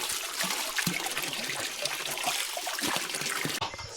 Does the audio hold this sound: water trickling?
yes